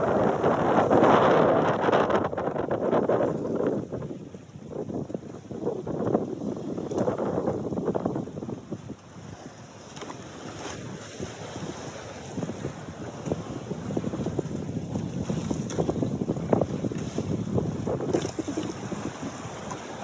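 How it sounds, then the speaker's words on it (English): A small rowing boat rocks on open ocean under gusty wind, with buffeting wind noise across the microphone, lapping waves and creaking hull motion rising and easing over a long stretch, and no one speaking. "here's a video of kind of just rowing out in the ocean"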